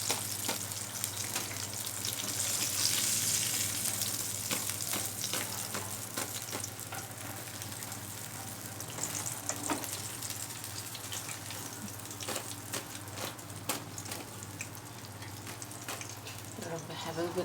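Crispy strips fry in a pan with a steady crackling sizzle and scattered sharp pops, heard close up throughout.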